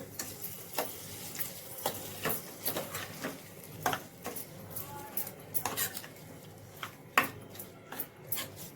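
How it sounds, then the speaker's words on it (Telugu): Mango pickle is mixed into a rustic roti chutney of green mango peel. Quiet, close stirring scrapes and light clinks of a spoon against the vessel come in uneven bursts over several seconds, with no talking. "ఇప్పుడు ఇందులో మామిడికాయ పచ్చళ్ళు వేసేస్తున్నాము ఒకసారి మిక్స్ చేసుకోవాలి"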